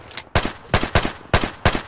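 Gunshots in the game Unturned: five or six loud, sharp shots spaced unevenly, each a hard close crack with a short tail, with no talking.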